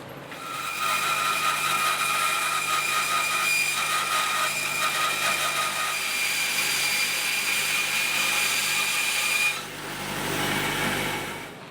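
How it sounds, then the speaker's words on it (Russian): A saw cuts steadily through glued-up wooden panels for an end-grain cutting board, a sustained whining drone with a brief dip and rise near the end, with no talk. "Получившиеся щиты распиливаем еще раз."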